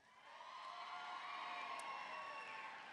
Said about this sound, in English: Brought your own cheering section